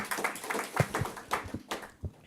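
An audience at a literature conference gives a short burst of scattered applause, a few close individual claps at an uneven rhythm for about two seconds.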